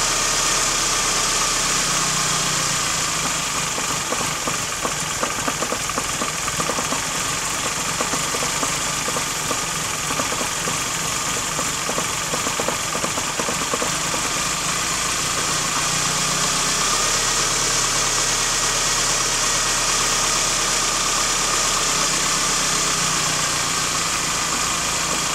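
Car engine idling after a cold start, a steady mid-volume hum with a faint uneven knock in the rhythm, running continuously for about twenty-five seconds with no voices.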